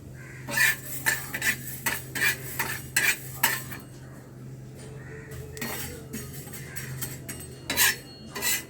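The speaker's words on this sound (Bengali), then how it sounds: "এবার আমি অল্প পরিমাণে চাল নিয়ে শুকনো খোলায় ভালো করে ভেজে নেব" Rice dry-roasts in a pan and is stirred with a metal utensil, giving repeated loud scraping and clinking strokes in an uneven rhythm over a low steady hum, with no talking.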